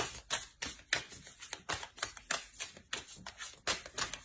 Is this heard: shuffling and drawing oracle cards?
yes